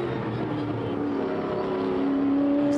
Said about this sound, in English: 17 BMW comes out of the final corner.